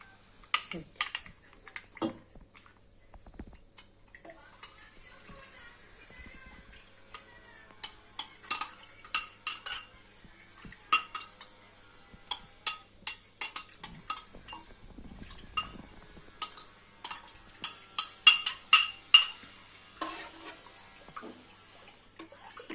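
A labneh cheese mixture being stirred in a bowl, producing scattered sharp clinks and scrapes of a utensil against the bowl, irregular and close, with quiet pauses between bursts.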